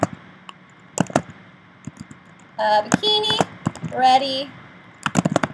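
Keystrokes on a computer keyboard come as scattered clicks and short bursts, with a voice speaking briefly in the middle of the typing.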